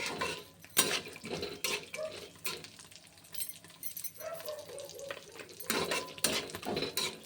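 Cashews and tempering spices fry in oil in a pan with a soft crackling sizzle, broken by repeated scraping and clinking of a spoon against the pan.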